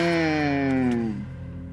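A pig being pulled along in the video game Inside lets out one drawn-out, loud, downward-sliding grunting squeal that fades away after about a second.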